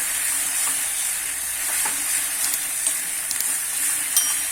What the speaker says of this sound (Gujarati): આ જે શેકેલ રીંગણ હતું એ હવે આપણે એડ કરી દઈશું અને આપણે ખૂબ સારી રીતે હલાવી લઈશું